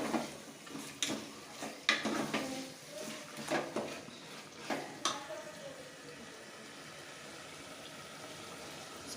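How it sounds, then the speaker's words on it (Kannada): Mutton pieces stirred with salt and turmeric in a cooking pot, giving a run of close, uneven scraping and clattering strokes over the first five seconds before it settles into a soft, steady sizzle. "ಇವಾಗ ಅದನ್ನು ಚೆನ್ನಾಗಿ ಮಿಕ್ಸ್ ಮಾಡ್ಕೊಳ್ಳಿ"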